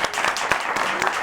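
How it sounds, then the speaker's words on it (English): A live talk-show audience breaks into brief applause for a Chicago alderwoman, a short burst of many hands clapping, with crowd noise and voices blended in. "Let's clap for her."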